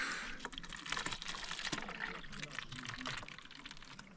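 Drinking water pours steadily from a filter into a container outdoors on a cycling trip in Tajikistan's Bartang Valley, giving a continuous bright trickling rush, faint and close, with no talk.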